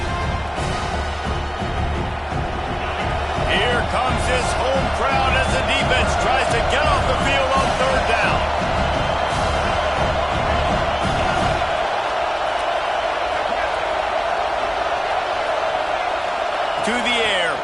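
Home crowd noise in the College Football 26 video game, a loud, continuous roar of a stadium crowd with cheers and whoops under play-by-play commentary, the low rumble dropping away partway through.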